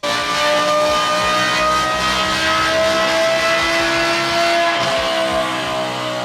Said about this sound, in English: it sounds like an actual old school F1 car